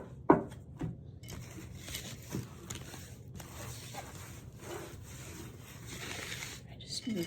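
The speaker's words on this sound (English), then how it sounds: "This is how I shuffle my cards, just kind of all over the place" Tarot cards being spread and shuffled by hand across a surface, giving a close, soft rubbing and scraping shuffle with a few sharper brushes, fairly quiet and steady throughout.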